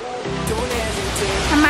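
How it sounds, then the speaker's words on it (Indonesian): Coban Putri waterfall near Batu, Malang, roars as a steady broadband rush of falling water, close and continuous, with people talking over it. "Ini air terjun Coban Putri."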